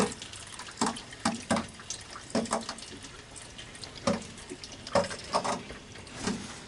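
Water leaks from the bottom of the hot water heater in a vintage GMC motorhome, with irregular dripping and trickling splashes, close and fairly faint, over a low background hiss.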